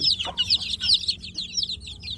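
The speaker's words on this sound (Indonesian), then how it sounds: "anak-anak ayam kampung ini kedinginan" Newly hatched free-range village chicks, cold and huddled, peep in a rapid, continuous chorus of high, thin chirps close by, with no voices over them.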